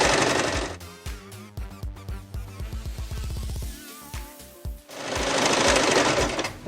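A sewing machine stitches fabric for a heart-shaped oven mitt, running in short bursts of rapid needle chatter that stop and start as the work is turned, with louder continuous stitching at the beginning and end.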